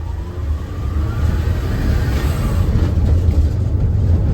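The engine of a turbo Daihatsu Mira revs, giving a loud, close, low rumble that swells steadily over a few seconds with no voices.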